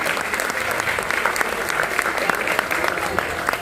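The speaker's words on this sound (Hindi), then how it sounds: "जोरदार तालियां हो रही" Loud, dense applause from a seated audience at a company management event, steady and continuous throughout without pause, with no other voices or sounds rising above the clapping.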